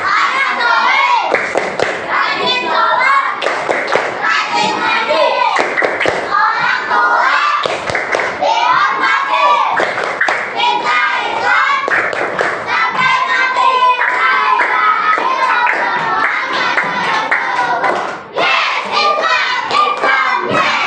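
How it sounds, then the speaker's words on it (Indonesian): Children in a religious-education class clap in a group, with rhythmic patterned clapping mixed with children's voices and occasional thumps and taps, loud and close throughout. "tepuk tangan buat kita semua"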